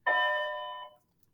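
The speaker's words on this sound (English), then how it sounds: "the bell just rang and we're going to have announcements" A school bell gives one electronic chime in a classroom, ringing clear and sustained for nearly a second before fading, then silence.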